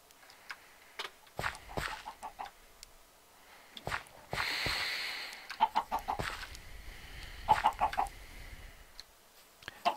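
Chicken clucking in short, irregular bursts close by, with brief scratchy sounds between calls and no talking.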